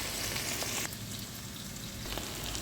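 Potatoes dropped into a pan of frying tomato, garlic and carrot, giving a loud, steady sizzle close up that dips briefly as they go in and then keeps crackling.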